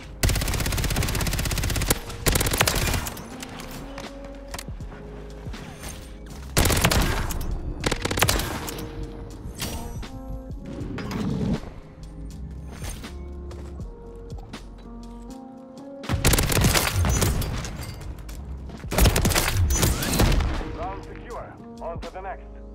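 A placed charge detonates in a first-person shooter video game, with several loud, sharp blasts mixed with rapid gunfire and quieter gaps between them, while someone talks.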